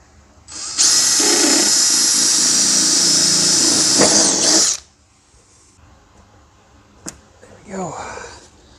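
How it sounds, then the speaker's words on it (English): A loud, close power drill whines steadily for about four seconds, then stops, followed by a sharp click and some light handling noise. "Drill a hole and we're good."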